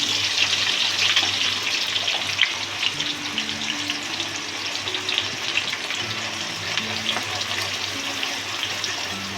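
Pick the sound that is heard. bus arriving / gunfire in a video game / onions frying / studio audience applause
onions frying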